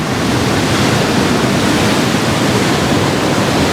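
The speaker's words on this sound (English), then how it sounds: "But there's big set waves coming. Look at that." Big set waves breaking on an ocean shore make a loud, constant roaring wash that fills the whole moment without any clear individual crashes.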